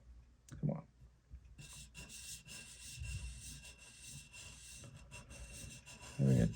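A thin blade is rubbed back and forth across a sharpening stone while held in a Bridge City Tools HG-4 hone guide to set its bevel. The gritty scraping strokes are close and steady, with a few clunks in between.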